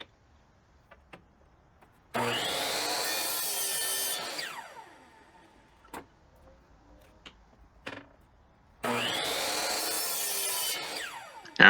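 Wooden pieces for a step stool, an IKEA Bekvam learning-tower build, being sawn in two loud, sustained cutting bursts separated by a quiet gap with a few scattered clicks and knocks.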